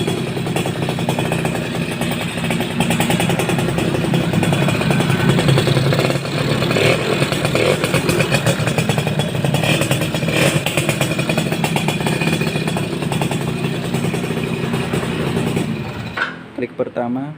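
A Suzuki RC100 motorcycle engine idles in neutral, a steady close, rattly two-stroke putter holding even for most of the time before cutting out near the end, with a voice talking over it.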